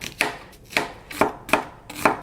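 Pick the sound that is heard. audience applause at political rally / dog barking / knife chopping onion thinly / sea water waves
knife chopping onion thinly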